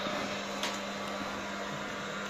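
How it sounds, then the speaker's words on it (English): Steady hum of a microwave oven running, a continuous droning whir with a low electrical buzz, constant and moderately quiet throughout with no voices. "It's a microwave."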